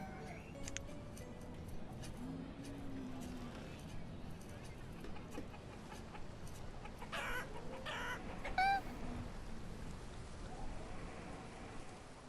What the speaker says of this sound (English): Give me more chicken sounds.